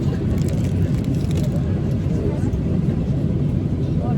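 An airplane cabin in flight carries a steady, dense low roar at constant loudness, with faint scattered clicks early on.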